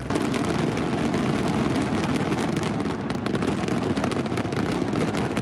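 Falles fireworks display in Valencia, 1,000 kg of pyrotechnics fired in 2,000 firing sequences, bursting as a dense, continuous, loud barrage of rapid crackling blasts with no pause.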